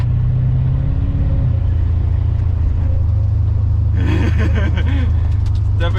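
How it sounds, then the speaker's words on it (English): A Peugeot RCZ with a replaced turbo gives off a loud, deep, continuous engine rumble while driving, with a brief pitch shift early on and people talking over it near the end. "Definitely a very angry car."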